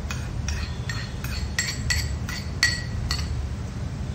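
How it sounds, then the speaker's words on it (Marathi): A spoon stirs metkut mixed with curd in a bowl, tapping and clinking against the rim in an even rhythm of about ten light strikes, close up over a low background hum. "मी जस्ट त्याला हलवून घेते."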